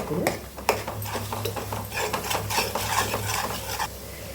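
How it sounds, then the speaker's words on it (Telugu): Turmeric frying in a pan for a spicy drumstick curry, a continuous sizzle with busy scraping and clinking of a spoon against the pan, fairly close and loud, with no pause throughout. "1/2 టేబుల్ స్పూన్ పసుపు కూడా వేసుకొని మనం చక్కగా ఫ్రై చేసుకుందాం"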